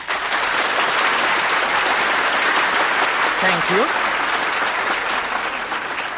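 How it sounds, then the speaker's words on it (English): A studio audience at a live radio comedy broadcast breaks into loud, sustained applause that fills the room, and someone speaks briefly over it. "will you please stop applauding these guys?"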